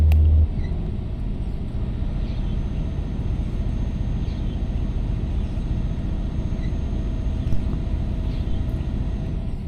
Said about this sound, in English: the trucks act, sound and respond the way that you would expect a real truck in the real world to do